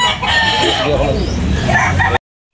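A rooster at a chicken sale in Tabunok, Talisay, Cebu lets out one loud, drawn-out crow lasting about two seconds before it cuts off abruptly.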